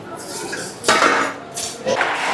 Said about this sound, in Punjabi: ਇਧਰੋਂ ਲੈਣਾ ਹਾਂ ਭਾਂਡੇ ਫਿਰ ਚੱਲਦਾ ਭਾਂਡੇ ਲੈ ਕੇ